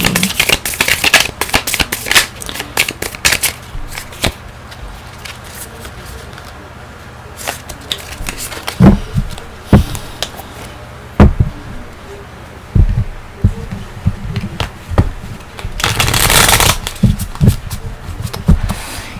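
Tarot cards are shuffled and handled in a quiet room: soft riffles and sharp snapping slaps, irregular and close, with a louder burst of shuffling near the end and no talking.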